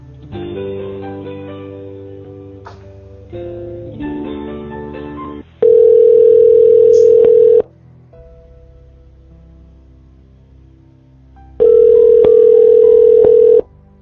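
During a phone call transfer, a steady electronic ringback tone sounds in two long bursts about two seconds each, with a quieter tonal, music-like passage before them and a gap between, no voices present.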